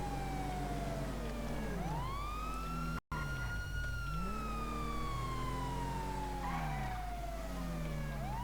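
A police vehicle in the FiveM game drives with its siren wailing and sweeping up and down over a steady engine rumble, loud and close, with a brief dropout midway.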